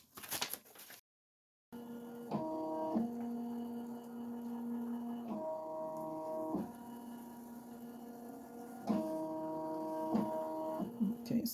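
An embroidery machine traces the outline of an appliqué design, its motor giving a steady droning whine that starts and stops in several separate runs over a quiet room hum.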